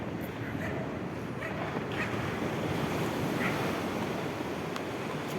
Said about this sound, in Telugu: beautiful beautiful Radhanagar beach